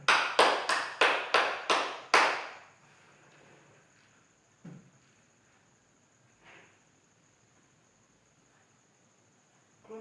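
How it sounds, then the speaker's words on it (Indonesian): Six sharp claps ring out in quick succession in a classroom as group 1 is applauded, then the room goes quiet apart from a couple of faint knocks. "Tepuk tangan bagi kelompok 1."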